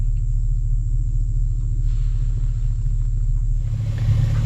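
An old Ford F-150 pickup's six-cylinder engine idles rough and misfires, a steady loud low rumble with an uneven pulsing throb that continues for the whole stretch.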